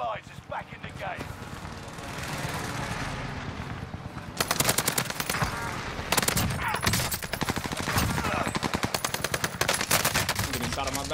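Rapid automatic fire in the shooter game Warzone, a quiet stretch followed by long dense bursts of close gunshots with a steady rhythm, loud throughout and mixed with game noise.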